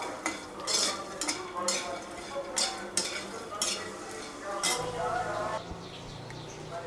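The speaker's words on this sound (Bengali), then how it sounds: "এখন আমি হাত দিয়ে মেখে দেব" Vegetables coated in mixed spices are worked together by hand in a bowl, giving close, repeated squishing and clattering bursts with a faint voice in the background.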